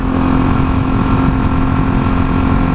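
An old Honda motorcycle engine drones steadily at a loud, close, even pitch while riding down a road, a constant hum with no talk over it.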